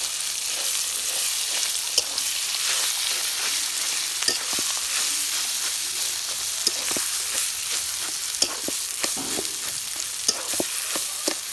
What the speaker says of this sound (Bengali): তারপরে তো ভালো করে নাড়াচাড়া করে নিতে হবে